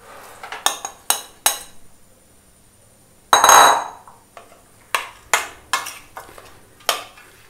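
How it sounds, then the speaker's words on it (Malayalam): A metal spoon clinks repeatedly against a pan while grated coconut and cooked green gram are stirred into jaggery syrup, giving sharp, close, irregular knocks with one brief louder scraping burst midway. "തേങ്ങ ചുരണ്ടിയതും ചെറുപയർ വേവിച്ചുകൂടെ നമുക്കൊന്ന് ഇളക്കിയെടുക്കാം."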